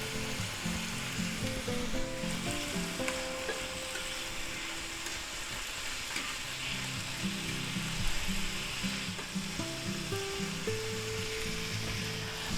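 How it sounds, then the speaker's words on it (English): Two sausage patties sizzle in a hot pan, a loud continuous frying hiss with light scraping and clicking of a utensil running underneath, steady for the whole stretch with no voices. "To that, we're going to add our sausage patties here."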